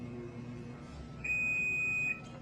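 A single steady electronic beep from a Challenge Titan 200 paper cutter, clear and fairly close, holding for about a second over a low mechanical hum as the back gauge returns home.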